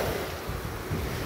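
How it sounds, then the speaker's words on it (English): Ocean waves wash up on a Florida beach at Blind Pass, a brief loud rush of surf mixed with strong wind buffeting the microphone. "let the waves come up"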